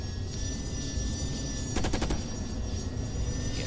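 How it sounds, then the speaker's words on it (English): A short, rapid burst of machine-gun fire in Carrier Command: Gaea Mission over a constant engine hum, the shots clustered near the middle, with no talking. "only one weapon available is the machine gun."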